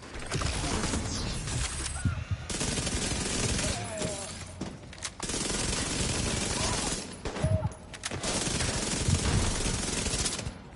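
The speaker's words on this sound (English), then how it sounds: "Setting up turret." A deployed turret in The Division 2 fires in long, loud automatic bursts with sharp impacts and breaking sounds, pausing briefly between volleys, with game noise and no talking.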